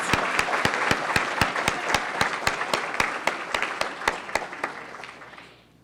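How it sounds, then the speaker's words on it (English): A crowd at an awards ceremony applauds steadily with sharp rhythmic claps standing out, then the clapping fades away toward the end. "Could I ask for a round of applause for all of these public officials?"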